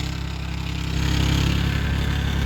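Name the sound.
tractor engine running in a sugarcane field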